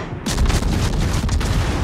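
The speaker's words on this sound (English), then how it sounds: "Everybody's firing at me." Naval gunfire in the warship battle game World of Warships, a dense, loud barrage of overlapping booming shots with rumbling low end, continuous across the whole short stretch.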